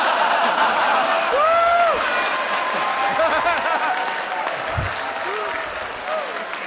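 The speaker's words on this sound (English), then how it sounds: "Stop clapping." A studio audience claps loudly with whoops and whistles rising over the applause, while people talk through it.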